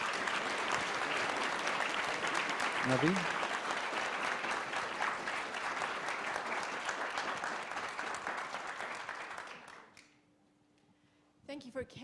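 A room of diners at a dinner meeting gives a round of applause for a panel, with dense, steady clapping that runs for about ten seconds and then stops abruptly. A voice briefly calls out a name near the end.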